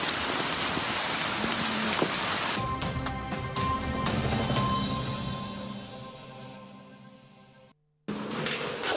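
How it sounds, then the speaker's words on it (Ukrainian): Hail pounds a house during a storm, a dense, loud hiss of impacts that gradually thins and quiets, then cuts out briefly before the heavy clatter resumes. "Жителька цього будинку показує відео, яке вдалося відзняти під час граду."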